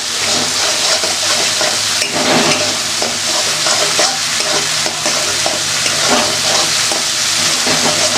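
A mustard-based spice paste frying in a pan, with a constant loud sizzle and the scrape of a spoon stirring it throughout, close up and uninterrupted.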